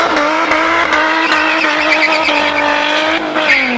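A Nissan 350Z drifts with a loud, sustained engine howl and tire squeal, its revs holding high and steady before dipping near the end.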